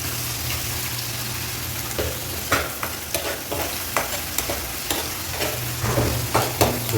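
Donuts frying in hot oil, a steady close sizzle with light crackling and occasional stirring or turning clicks over a low hum.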